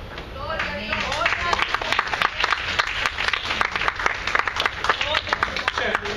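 Church congregation applauding during a worship service in Arecibo, a dense, steady patter of many hands with scattered voices mixed in throughout.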